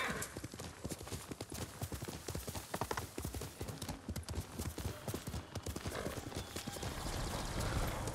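Steady clip-clop of horse hooves at a brisk trot in the video game Ghost of Tsushima, close and rhythmic throughout, with no one speaking.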